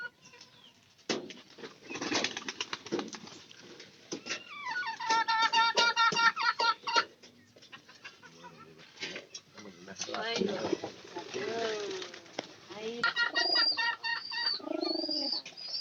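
Pigeons in a loft with chicks flap their wings in repeated bursts, close and fairly loud, mixed with cooing and chirps while someone talks over them.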